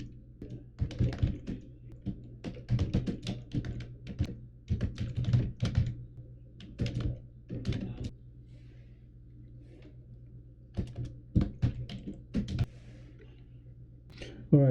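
Computer keyboard typing, close and fairly quiet, in bursts of rapid clicking keystrokes separated by short pauses, over a low steady hum.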